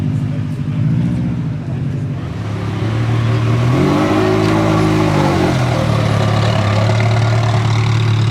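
A Subaru's large exhaust at a Paris car gathering idles with a deep, throbbing burble, then revs up and down once midway before returning to a steady loud idle.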